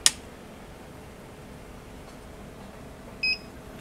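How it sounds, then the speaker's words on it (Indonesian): A SWIPOWER 2000-watt pure sine wave inverter is switched on at its output switch in a workshop. A sharp click opens the moment, then a single short electronic startup beep sounds near the end over a faint background hum. "bunyi beep yang pertama tu dah normal"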